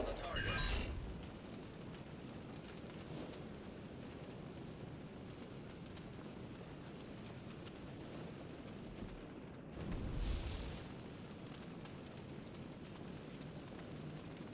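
Heavy battleship gun salvos in a naval combat video game, with a deep booming blast at the start and another about ten seconds later, separated by a steady rumbling roar of wind and sea.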